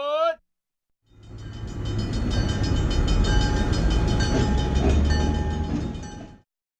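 A short horn toot, then a subway train rumbling steadily through an old tunnel, a loud continuous roar with metallic squeals that fades out at the end.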